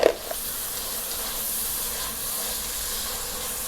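Onions sautéing with salt in a pan for coconut milk pulao give off a steady, soft sizzling hiss, close and continuous, with a brief clatter at the start and no talking.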